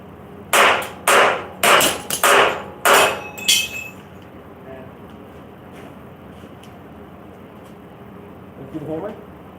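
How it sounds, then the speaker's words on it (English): Six sharp hammer blows ring out on metal bodywork of a 1969 El Camino, close and loud in an uneven rhythm, followed by quiet shop sounds and brief voices. "Try and hit it with the hammer."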